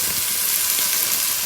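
Garlic, ginger and onion fry in a hot pan for a Moroccan chicken stew, giving a loud, close, continuous sizzle with no pauses.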